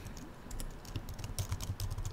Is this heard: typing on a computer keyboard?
yes